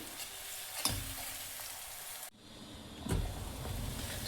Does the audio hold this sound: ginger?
yes